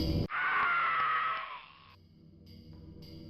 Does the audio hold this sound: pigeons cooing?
no